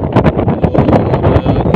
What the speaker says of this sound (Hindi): काफ़ी सारी जो है यहाँ पे हवा चल रही है, तो शायद आपको आवाज़ मेरी सही ना आ रही हो।